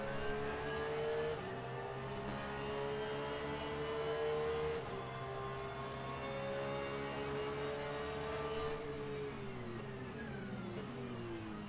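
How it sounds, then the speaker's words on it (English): A Porsche GT3 race car engine in a sim racing game at Laguna Seca drones steadily at high revs, its pitch holding then dropping slightly as it lifts off, with no talk over it. "Listen to the sound of that Porsche engine."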